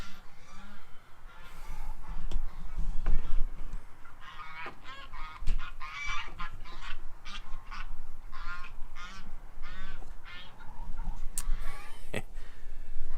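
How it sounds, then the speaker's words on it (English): An aggressive goose honks repeatedly and loudly in a small fenced backyard as it attacks a person, with harsh, rapid honks in irregular bursts over rustling and background noise. "Brittany's getting attacked by a goose."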